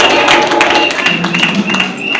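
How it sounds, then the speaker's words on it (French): A crowd at a party congress claps loudly and continuously, a dense wash of applause filling the hall. "que je vous demande d'applaudir très fort"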